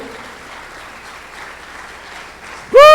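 A church congregation claps in gratitude during a Spanish-language service, soft scattered clapping at a distance, cut off near the end by a sudden loud tonal swell like music or feedback.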